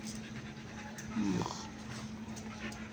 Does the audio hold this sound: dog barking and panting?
yes